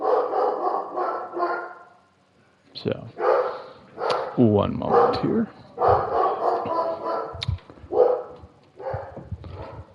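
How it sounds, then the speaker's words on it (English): A German Shepherd barks repeatedly indoors, loud deep woofs and a few yips and whimpers coming in bursts while someone talks over them during War Thunder gameplay. "That is my dog barking."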